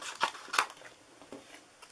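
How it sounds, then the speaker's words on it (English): Small scissors snip through paper for a birthday wallet card, a few crisp close cuts in quick succession followed by softer rustling. "I am going to grab my little scissors here. Sorry about that. And I'm going to cut this."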